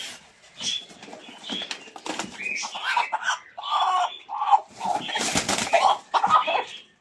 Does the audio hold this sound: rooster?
yes